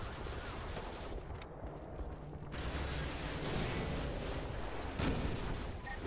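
Heavy gunfire and artillery-like booms in Modern Warfare 2's veteran campaign, a dense continuous rumble of shots with a sharper blast near the end, no talk.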